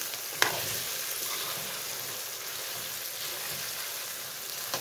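Chillies go into a pan of mixed vegetable pickle frying in oil. A sharp clink near the start gives way to a steady, soft sizzle that crackles throughout.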